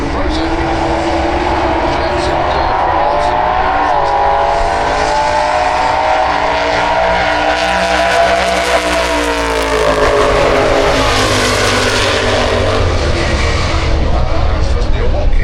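Drag racing cars at a Santa Pod exhibition roar loud and steady for the whole stretch, a dense engine blast that swells toward the end, with a public-address voice faintly mixed in.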